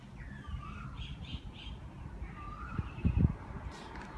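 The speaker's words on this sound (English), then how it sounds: "There are all kinds of birds here." A strange, loud bird call in Lopburi, Thailand rings out as harsh squawks, several separate cries spread across the stretch, moderately near, over faint outdoor background noise with occasional low thumps.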